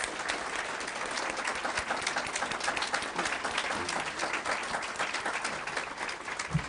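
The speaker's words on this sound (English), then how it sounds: "Please join me on a final round of applause for the 2018 I Love My Librarian" Sustained applause from an evening audience honoring the 2018 I Love My Librarian Award winners, dense rapid clapping from a crowd holding steady at moderate volume throughout.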